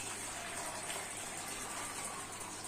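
Water gushes into a floating house model at a school science exhibition, simulating rising flood water. It makes a steady, continuous rushing and splashing at moderate volume throughout, with no one speaking.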